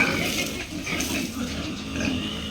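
Pigs on a farm grunting and oinking in a steady, fairly close chorus, with a voice talking faintly underneath.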